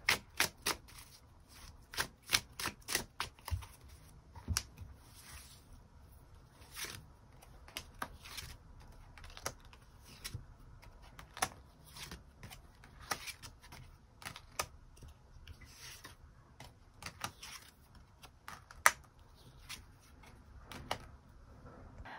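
Tarot cards are shuffled and drawn from the deck, giving a steady run of soft, close papery riffles and sharp flicks and taps spread across the whole stretch, with no one talking.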